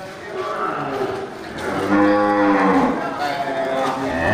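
Aceh bull cattle at a busy livestock market in Geurugok, with a long, loud, close moo swelling and fading over steady crowd murmur.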